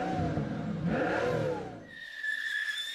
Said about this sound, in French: une voiture de sport.